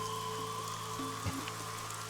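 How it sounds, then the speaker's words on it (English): In the AI: The Somnium Files video game, rain pelts a parasol at an amusement park, a steady patter of drops under a low constant hum, with one brief thud near the middle. "Parasol is getting pelted by the rain."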